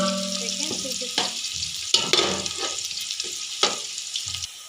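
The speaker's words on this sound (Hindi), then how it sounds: "प्याज को हल्का गोल्डन कलर आने तक फ्राई करेंगे" Onions frying in a pan for matar pulao, a steady broadband sizzle with occasional louder spatters and stirring scrapes, close and alone with no talk.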